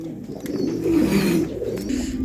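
A pigeon coos nearby in a single continuous, low, throaty burbling call that lasts about two seconds, clear and close.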